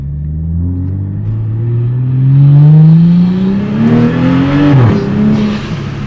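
Car revving hard at a car meet, a loud rising engine pitch that climbs for several seconds, then peaks and drops sharply, with a whirring and spinning rumble as the wheels break loose.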